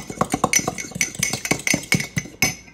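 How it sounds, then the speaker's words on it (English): A fork whisks egg in a bowl for a quick keto bread, rapid close metallic clinks and taps against the bowl in an uneven, busy rhythm, loud and alone with no speech. "You're going to grab a fork and just mix that up really well."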